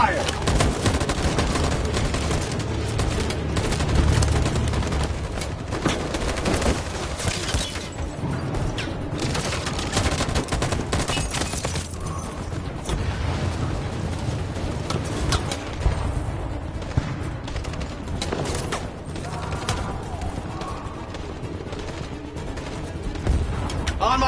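Dense, sustained volley of gunfire from the video game Detroit, with overlapping loud shots and bursts running continuously for about twenty-four seconds and leaving no quiet gaps.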